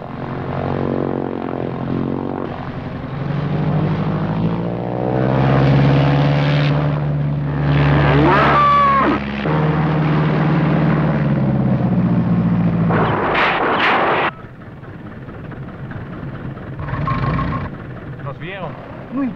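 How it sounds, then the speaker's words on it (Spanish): A propeller airplane drones loudly through a scene in the Mexican film Calzonzin Inspector while gunfire crackles and people shout in Spanish, the engine roar cutting off abruptly near the end. "¡No le disparen a mi avión!"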